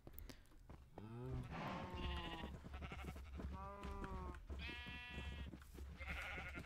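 Several sheep bleat repeatedly at close range in a Minecraft-style video game while being bred, overlapping wavering calls with a faint voice underneath.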